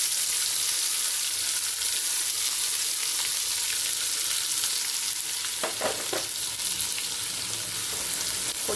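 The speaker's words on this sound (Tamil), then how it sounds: "கொட்டிட்டு மெல்லமாக இதை வந்து கிளறி விடணும்" Ground tomato paste hitting hot oil in a pan for Chettinad tomato kulambu, giving a steady loud sizzle and frying hiss throughout with a few sharper spatters near the end, no talking.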